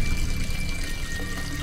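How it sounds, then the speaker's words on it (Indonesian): A running tap with liquid gushing in a dense, continuous flow, close and fairly loud, briefly and without any talk. "Keran juga mengalir darah."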